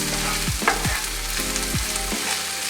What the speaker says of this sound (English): we add a tablespoon of crushed ginger and fry that as well along with the chillies